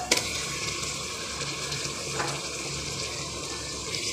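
Mutton keema going into a pan of fried onions in a home kitchen: a steady soft sizzle and hiss of frying meat throughout, with a faint clink at the start and light stirring noises.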